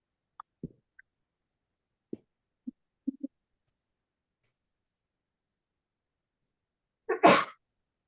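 At a candidate forum, after a few faint clicks and small taps in near silence, a single sharp sneeze bursts out loudly near the end.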